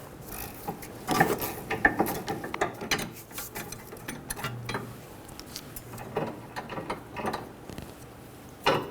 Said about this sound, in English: Using a 15mm wrench to hold the stud. Do the same thing on the top nut.